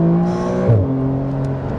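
Rear-mounted engine of a 2021 Porsche 911 Carrera 4S while driving, a close, steady drone with a brief drop in pitch partway through, as at a gear change, then settling into an even hum.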